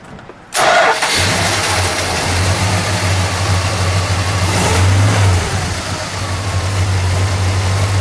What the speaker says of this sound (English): fire it up. We'll let it idle.